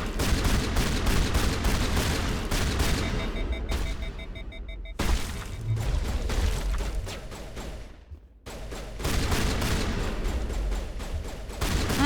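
Gunfire from Mass Effect 1, dense bursts of shots crackling almost continuously under eerie game music, with brief drops into near silence between volleys.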